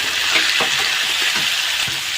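Broiler chicken and potato chunks sizzle hard in a frying pan, a dense continuous crackle close by, with a few soft knocks and stirring scrapes underneath.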